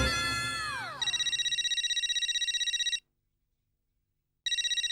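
Babita's phone rings with a loud electronic ringtone: a steady pulsing tone repeats for about two seconds, breaks off into silence, then starts again near the end, with no talk over it.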